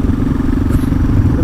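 A motorcycle being ridden drones steadily and loudly throughout, with a dense low engine and road rumble and no pauses.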